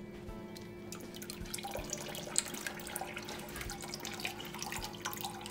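Water running from a tap with soft splashing and dripping while mini Phalaenopsis orchids are watered indoors, a steady faint trickle with no talking.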